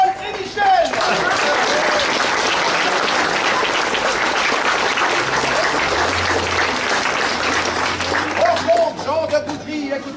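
Dense audience applause at a touring village variety show in Boudry, following a drum rendition of Beethoven's Fifth, steady and loud for about ten seconds with a few voices calling out near the start and end.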